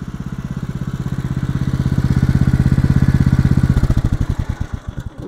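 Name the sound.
Norwood LM29 sawmill engine running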